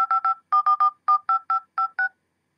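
A Goophone i5 iPhone 5 clone beeps out keypad dialing tones: about a dozen short, crisp beeps, some grouped in quick runs, ending in silence.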